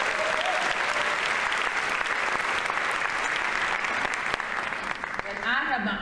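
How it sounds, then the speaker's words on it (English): Staff audience at a school district convocation day breaks into sustained, dense applause, steady and loud throughout before thinning near the end. "Let's give them a applause."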